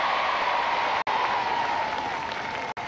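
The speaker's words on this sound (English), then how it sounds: "let's give them all a cheer" Crowd at a 1982 outdoor team games contest between town teams cheers and applauds for three sailors, a steady loud wash of clapping and shouting that carries on without a break, cut by two very brief dropouts.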